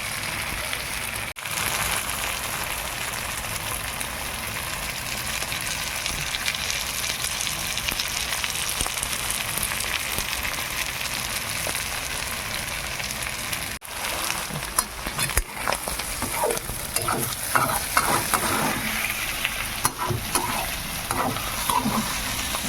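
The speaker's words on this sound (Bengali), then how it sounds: "মাছের তেল থেকে কত তেল বেরিয়েছে, এটাতেই আলুটা ভাজা হবে।" Potatoes fry in oil rendered from fish, giving a long, even sizzle with rain-like crackling that grows busier and more spattery toward the end.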